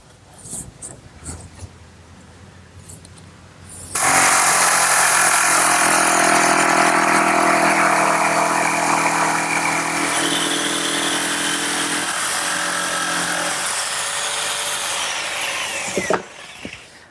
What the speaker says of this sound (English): The jigsaw will do just as good a job.